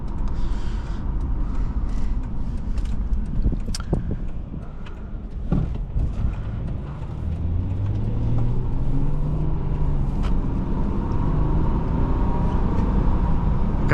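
A 2006 Subaru B9 Tribeca's engine hums steadily through a test drive, heard from inside the cabin. A low, continuous drone is joined by road and wind noise, and a rising engine note swells briefly in the middle.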